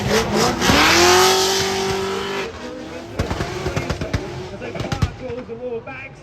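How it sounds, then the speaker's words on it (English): A Nissan PS13 drift car with an 800 hp V8 roars loudly at a Mondello Park drift event, revving hard and then dropping into popping, crackling bursts, while an announcer talks over it. "Bagsy flicks that PS13 to angle now, starts on to release 800 V8 horsepower"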